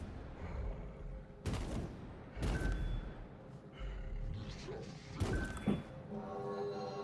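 Gunfire in Destiny 2 as shots hit puzzle symbols, several sharp, separate gunshot bursts spaced a second or two apart, fairly close, with quieter game ambience between them.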